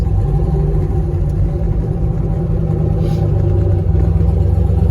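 A 1995 Ford Mustang with a stock-bottom-end 302 V8, Trick Flow 11R heads, a 76 turbo and an air-to-air intercooler idles loudly nearby, a steady deep rumbling drone with an even pulsing texture throughout.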